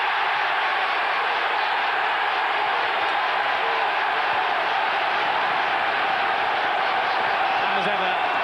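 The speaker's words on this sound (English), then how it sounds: "orchestrates the applause as dramatically as he scores the goals" A football stadium crowd roars and applauds after Ian Wright scores for Arsenal against Coventry City in 1996, a constant wash of distant cheering and clapping that stays steady throughout, with a commentator talking over it.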